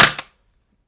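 A VFC KS1 airsoft rifle fires one sharp shot nearby, a quick snap with a short second click right after, then silence.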